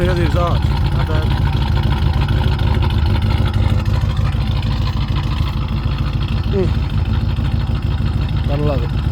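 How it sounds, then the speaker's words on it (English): A car engine idles with a steady, deep exhaust rumble, loud and close, running continuously throughout. "You want to hear the exhaust."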